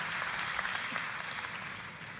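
A church congregation applauds together, steady dense clapping that fills the room evenly for a couple of seconds, loud and close, with no speech over it.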